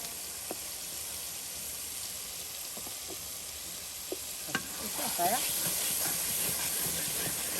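A spice paste of onion, ginger and cumin sizzles steadily in a pan for beef curry, a constant frying hiss with scattered clicks of stirring that grow busier toward the end, and voices are faint in the background.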